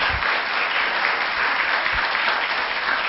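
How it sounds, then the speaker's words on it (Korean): Sustained applause from a seminar audience welcoming a government minister as he enters, dense steady clapping filling the whole stretch with no voices over it. "모두 반갑게 뜨거운 박수로 환영해 주시기 바랍니다"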